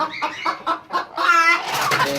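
A broody hen clucks in a quick series of short, close calls, then gives a longer drawn-out cackle near the end, loud and clear with no talk.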